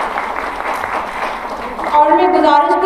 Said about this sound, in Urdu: آپ سب کی بھرپور تالیاں ان کے حوصلے کو بڑھائیں گی